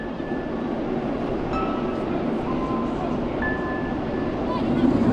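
Osiris roller coaster train at Parc Astérix rumbling on its track nearby, a continuous rolling clatter with faint squeals, heard alongside background crowd noise in the park.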